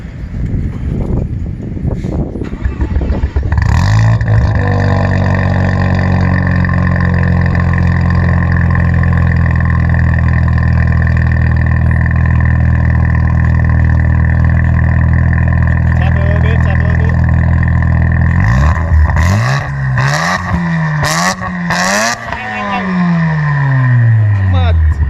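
An engine cranks and catches after a few seconds of rustling, then settles into a loud, steady idle held close up for a long stretch, with a few sharp revs near the end; voices speak briefly at the start.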